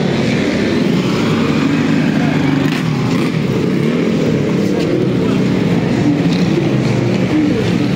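A dense, continuous roar of 52 motorcycle engines idling and revving together at an endurance race start, loud and close, with no break.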